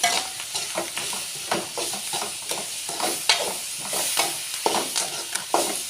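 Curry leaves crackle and sizzle in a pan with onion and tomato, a close, busy frying hiss punctuated by sharp spatters and irregular pops throughout.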